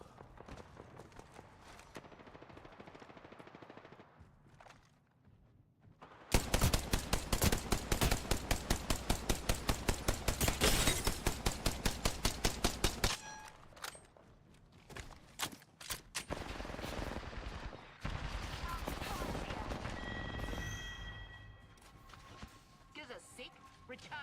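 Rapid automatic gunfire from a shooter video game, with a long loud sustained burst of shots followed by scattered bursts and single shots, mixed with game effects and talk.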